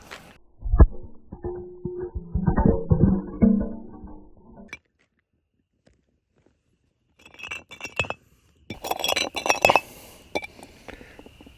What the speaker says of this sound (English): broke a cinder block on it, but the glass did not break